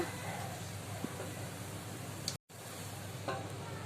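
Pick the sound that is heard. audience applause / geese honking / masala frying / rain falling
masala frying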